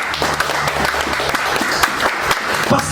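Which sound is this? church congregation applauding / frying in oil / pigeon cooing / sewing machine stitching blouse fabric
church congregation applauding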